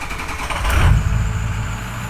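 A 2007 Ford Powerstroke diesel truck engine starting up, a loud low rumble rising and settling into a rough idle over two seconds.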